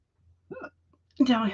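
A person's sudden hiccup, a short sharp voiced catch, followed moments later by a louder vocal sound, close and clear in a quiet room.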